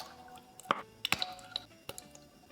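Ketchup squeezed from a bottle into a pot of water on the stove, a few wet squelching squirts and sputtering plops heard close and fairly quiet.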